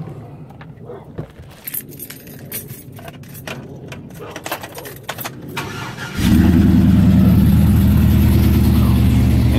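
A rebuilt, cammed 5.3 LS V8 in a 2003 GMC Sierra cranks and fires up close by. Faint jingling and shuffling come first, then a loud, steady, lumpy idle rumble continues to the end.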